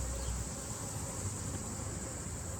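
Dense swarm of bees droning steadily around a hive, a continuous close buzzing hum with no pauses and no voices.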